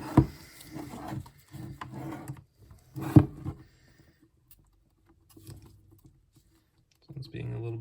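A screwdriver wedged into the top edge of a plastic CGC graded card slab scrapes and pries, giving a few sharp cracking pops with quiet gaps between, near and moderately loud.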